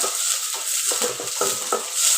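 Spices and garlic crackle and sizzle in hot oil for a tempering, a steady hiss punctuated by light stirring clinks of a utensil against the pan.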